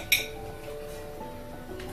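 A metal spoon clinks once against a pot of payesh, a Bengali rice pudding, as powdered milk is stirred in; the sharp ring comes near and early, then fades into a quiet kitchen hum.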